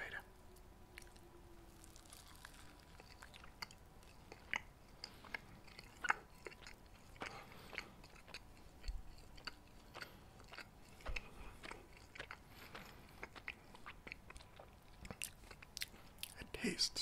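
Someone biting and chewing a tiny cheeseburger with seasoned meat and melted cheddar; soft, close, irregular crunches and wet chews, very quiet, amid a low hushed ambience.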